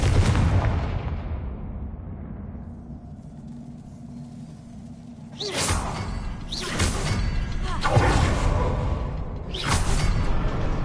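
Fiery magical blasts from the Confringo spell in the Hogwarts Legacy video game, three or four loud bursts with whooshing tails a second or two apart over a low rumbling game ambience.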